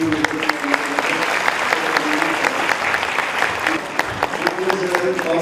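Sustained audience applause at a Turkish ceremony where book sets are gifted to orphaned children, dense steady clapping filling the whole stretch with faint voices mixed in.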